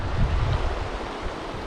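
Strong wind buffeting outdoors by a stream, a loud, steady low roar with heavy gusts near the start, no talking.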